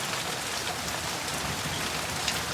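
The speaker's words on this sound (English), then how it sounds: "the rain's starting to let up" Steady rain falls during a severe thunderstorm in Garretson, South Dakota, a dense close patter on surfaces with no talk or thunder heard.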